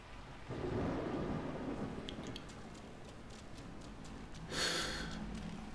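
A Blood Bowl 2 match plays out under a steady rain ambience, with a rumble of thunder early on and another swell of storm noise toward the end.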